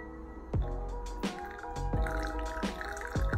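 Hot water is poured over ground coffee on a scale, giving a continuous liquid trickle broken by several sharp drips and splashes, close and moderately quiet, with no voices.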